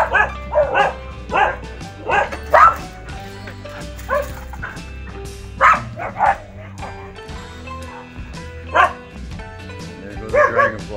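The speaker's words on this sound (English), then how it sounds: "the dogs go a little crazy with the thunder." Several dogs at an off-grid homestead bark and yip excitedly during a thunderstorm, in repeated loud bursts over a low rumbling background, with some whimpering between barks.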